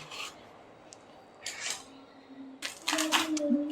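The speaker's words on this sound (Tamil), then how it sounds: "இப்போது இதை கட் பண்ணிக்கலாம். கட் பண்ணி தோல் உரித்து எடுத்துக்க போகிறோம்." A knife scrapes and cuts through a raw nendran plantain as its skin is peeled off, giving soft rasping strokes in short bursts close by.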